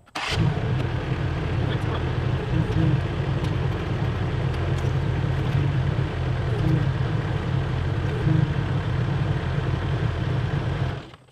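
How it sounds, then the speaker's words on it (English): A Summit TX25 compact tractor's engine turns over and catches, then runs at a steady, loud idle nearby for several seconds before cutting off abruptly. "start up the tractor"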